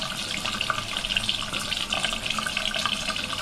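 Tap water runs steadily into a sink as a makeup brush is wetted for cleaning with a brush cleanser, a close, continuous splashing gush with slight fluctuations and no talking.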